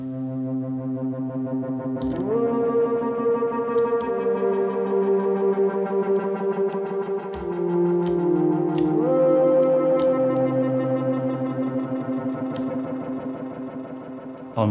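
A low lead synth patch on an Elektron Digitone plays a slow line of held notes that glide between pitches, with a thick, slightly distorted, pad-like tone, sustained alone without talk.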